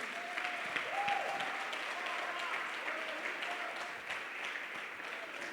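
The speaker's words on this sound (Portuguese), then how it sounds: "Aplauda mesmo Jesus." A church congregation applauds steadily during a Baptist celebration service, a dense wash of many hands clapping at moderate distance, with faint murmuring and tones underneath.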